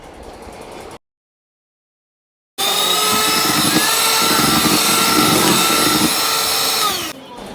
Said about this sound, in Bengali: এখন ভালোভাবে আরেকটু ব্লেন্ড করে নেব।